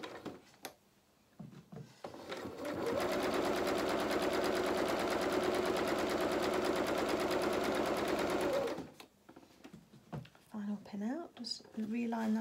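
A domestic sewing machine stitches a dressing gown in one steady, fast-running burst of about six seconds, with someone talking quietly before and after.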